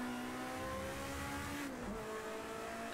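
A race car engine holds a steady high drone while accelerating through a circuit corner over an outside curb, the pitch dipping briefly and then climbing again, loud and close.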